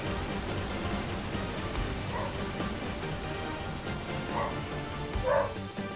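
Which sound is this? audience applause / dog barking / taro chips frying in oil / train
dog barking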